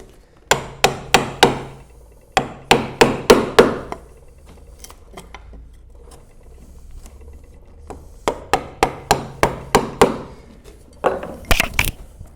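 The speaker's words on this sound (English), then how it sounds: "I generally do it all with the chisel." A chisel is struck in sharp, rhythmic mallet blows to clean out a joint in the wood of a Moravian workbench, arriving in several clusters of about five to six hits separated by quieter pauses.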